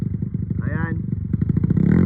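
A motorcycle engine in a crowded rural spot in Sarangani chugs close by in a fast, steady rhythmic putter that builds louder toward the end, with voices and crowd chatter mixed in.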